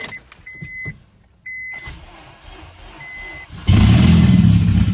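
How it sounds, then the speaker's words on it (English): A K20-swapped ES1 Honda Civic's engine is heard on its first start: a few quiet clicks and a low rumble, then a loud, dense roar suddenly kicks in near the end and holds steady. "Let's see if she starts right up."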